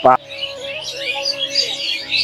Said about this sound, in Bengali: পাখির কোলা কোলাহল আছে কিছু পাখি দেখি